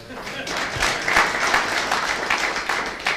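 An audience applauds at an LIC agents' general body meeting in Karnataka marking its 60th year. The clapping is moderate and continuous, with voices mixed in.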